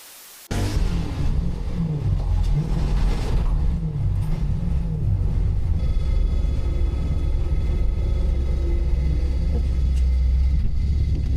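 BMW E92 V8 drift car engine bursting into a loud, deep, continuous rumble that holds steady and close at idle after being put in first gear, with faint clunks at the start.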